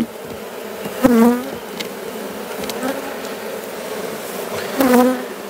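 A hive of troublesome bees that has lingered all year buzzes steadily close by, a dense insect drone with two louder swells as bees fly past near the start and end.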